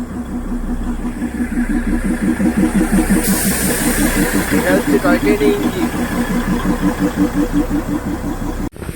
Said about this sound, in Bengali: এই যে এটা হচ্ছে টয় ট্রেন এই যে এই টয় ট্রেনটা মনে এখন ছাড়বে এই যে ছাড়ছে